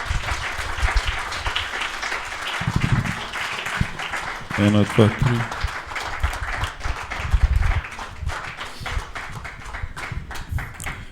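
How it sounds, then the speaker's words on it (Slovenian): Church congregation applauding people called forward at a farewell gathering: brisk clapping runs throughout while people talk and call out over it, with a short sung phrase in the middle. "Dajmo jim en aplavz."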